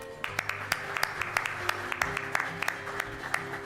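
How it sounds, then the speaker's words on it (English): An audience at the 2017 Tidy Towns Sustainable Communities Awards applauds the finalists with steady, scattered clapping at a moderate distance, and the sharp individual claps stand out over a soft room murmur. "So can we please cheer for our finalists?"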